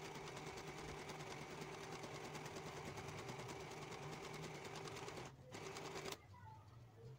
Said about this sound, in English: I'm just going to go to the other side and then sew that also.